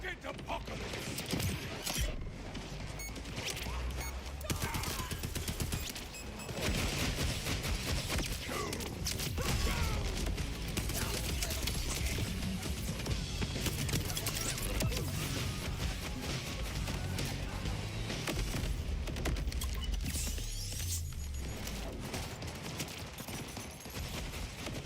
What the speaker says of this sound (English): A lot of grenades being chucked here